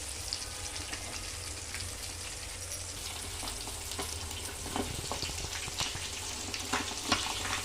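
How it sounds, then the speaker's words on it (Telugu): Chicken deep frying in oil in a pan gives a continuous crackling sizzle, close and moderately quiet, with scattered sharper pops and spatters growing a little busier toward the end and no voices. "చూసారు కదా, చికెన్ అనేది బాగా ఫ్రై అవుతుంది."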